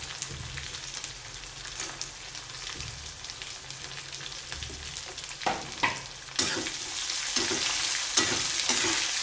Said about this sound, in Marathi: अगोदर शेंगदाणे टाकून घेऊया